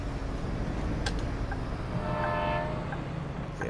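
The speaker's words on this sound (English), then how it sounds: "There's the train." A train passes in the Bus Simulator video game, sounding its horn: a steady low rumble of rolling wagons with a sustained tonal horn blast midway, moderately loud, and no talk.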